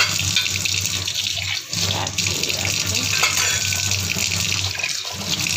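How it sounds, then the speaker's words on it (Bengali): A tap runs steadily over dishes being washed in a sink, close-up splashing water with light clinks and brief dips in the flow. "এই কটা বাসন আমি ধুয়ে নিলাম, রেখে দেবো এবারে।"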